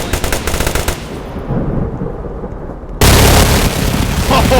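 Gunfire in a storm chasing game, a rapid burst of shots up front, then a steadier roar and a sudden loud blast of noise near the end, with no talk.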